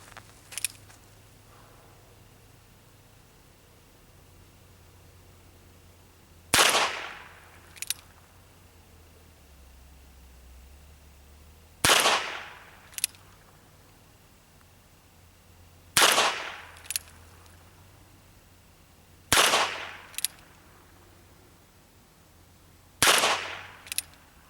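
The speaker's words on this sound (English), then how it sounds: "we're going to shoot my target. We're going to see how well I can group this revolver" A Ruger Wrangler revolver fires .22 Long Rifle rounds in five sharp, loud reports spaced several seconds apart, each followed by a short ringing tail over quiet outdoor background.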